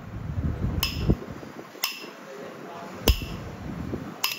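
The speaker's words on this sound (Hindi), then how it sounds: "एक मुंह का पेचकस, जैसे मैं इसको चोट लगा रहा हूँ ऐसे ही आपने सीट को बाहर निकाल लेना है।" A flat screwdriver taps a carburetor seat out: four sharp metallic ticks spaced about a second apart, close and crisp, heard over someone talking.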